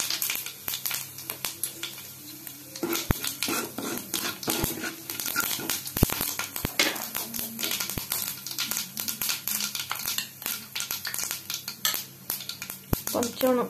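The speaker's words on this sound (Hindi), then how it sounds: "एबे सुखिला लंका आउ पंच फुटण को फुटाइबा।" Dried chillies and panch phoron tempering in hot mustard oil in a kadai, a dense crackling sizzle mixed with metallic clinks of a spoon against the pan, steady and close.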